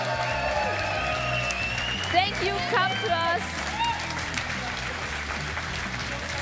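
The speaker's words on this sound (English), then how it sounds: "a big round of applause for this awesome audience" An audience at a Summoners War esports cup event in Europe applauds, a steady wash of clapping and crowd noise that continues under a host's amplified voice speaking in the hall.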